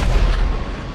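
A tank cannon firing in GTA V, a single loud, close, deep boom that rolls off over about a second.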